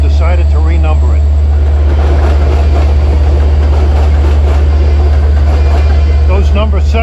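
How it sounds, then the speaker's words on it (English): A number 7 subway train rolls past in Long Island City, a steady loud, close rumble and roar of rail cars with faint clatter running the whole time. "Those number 7 trains just keep coming."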